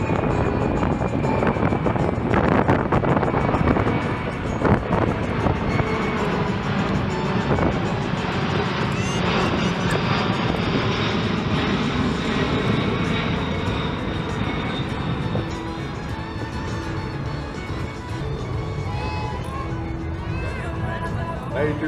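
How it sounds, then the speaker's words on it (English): A military aircraft makes a slow speed pass at the Skyfest 2019 air show, its engines roaring loudly and continuously as it goes by, with an announcer speaking over the noise. "From the right, the slow speed pass."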